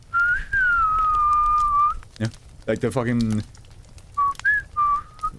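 A person whistles a long held note imitating the death whistle from Puss in Boots, then speaks briefly, then whistles a shorter two-part phrase, loud and close.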